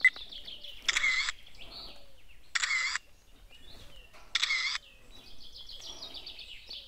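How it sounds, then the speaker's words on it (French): A Campark TC21 trail camera fires three shots in a row, each a bright mechanical shutter burst spaced roughly two seconds apart, with birdsong chirping faintly around them outdoors. "donc si j'appuie sur OK ça va faire 3 photos."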